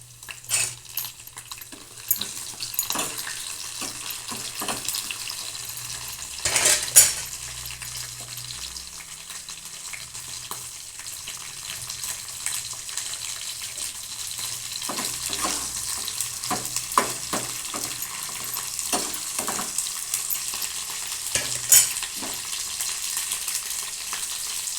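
Onion pieces and curry leaves frying in a pan for dosakaya tomato pappu, a soft steady sizzle broken by repeated spatula clinks and scrapes against the pan, moderately close.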